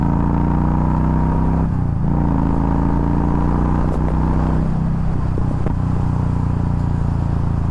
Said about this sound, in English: That Cobra pipe sounds, that Cobra slip-on sounds great.